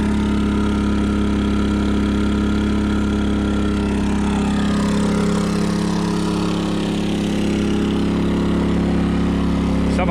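A small portable generator running beside the exhaust on a 1999 Ford F350 hotshot truck, a loud, steady close-up engine drone with a strong low hum that holds constant throughout, no voices.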